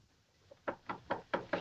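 Five evenly spaced knocks on a door in a 1949 film comedy, firm and fairly close, sounding alone after a faint earlier tap.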